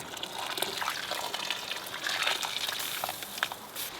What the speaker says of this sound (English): So we're just going to top it with water.